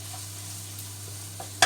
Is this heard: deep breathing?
no